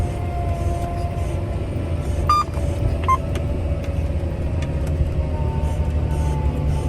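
A John Deere tractor working a field with a cultivator drones steadily from inside the cab, its engine note easing slightly lower as the cultivator is raised. A couple of short electronic beeps sound over the rumble, and no one talks.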